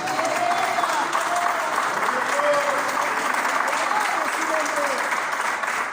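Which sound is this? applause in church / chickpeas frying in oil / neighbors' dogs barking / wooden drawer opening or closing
applause in church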